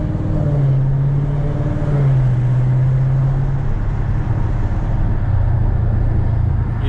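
A Dodge Challenger with a 392 Hemi engine rumbles at steady revs with a deep, loud, close exhaust drone and a slight swell in pitch partway through.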